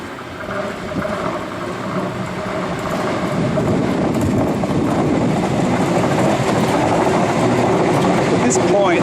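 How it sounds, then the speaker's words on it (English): Up train from Seaford rolling across a level rail junction, a steady rumbling clatter of wheels that builds gradually and stays loud throughout. "Train waiting to come across the intersection"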